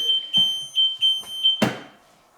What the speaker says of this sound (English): it's got reverse backup lights, it's got a reverse beeper